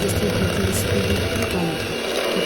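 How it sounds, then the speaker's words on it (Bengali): An electric beater machine running at low speed through pound cake batter, a loud, close, steady mechanical whirring buzz that stays constant over the whole stretch. "আমরা এখন বিটারের মেশিনে আসতে পরে লো স্পিডে বিট করে নিচ্ছি"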